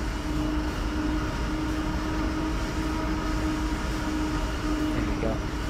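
CSX heavy-haul freight train in Train Sim World, a steady loud rumble of rolling wagons with a sustained tonal hum and a faint squeal near the end, as the brakes are applied lightly.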